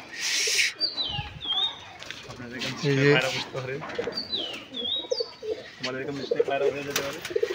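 Madras pigeons coo and chirp close by in a fully netted loft, their calls mixed with a person talking.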